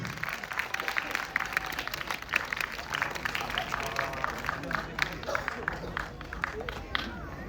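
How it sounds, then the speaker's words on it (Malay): A crowd applauding graduates at a ceremony, dense sustained clapping from many hands, close and fairly loud, with some voices and chatter mixed underneath. "Let's all give a big round of applause to our fellow graduates."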